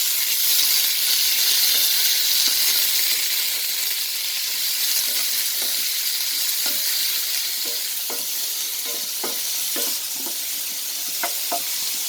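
Chopped small onions fried in a pan with popped mustard seeds: a loud, continuous hissing sizzle throughout, with occasional soft clicks and scrapes of stirring growing more frequent toward the end.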